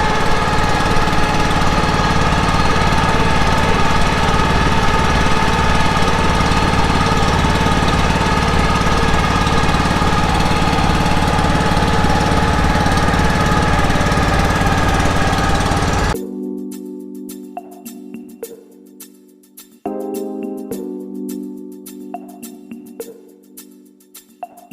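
A boat engine drones loudly and steadily through a boat ride in Lumbini, then cuts to quieter, intermittent knocking and clunking mechanical sounds.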